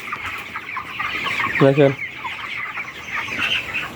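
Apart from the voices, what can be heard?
chickens clucking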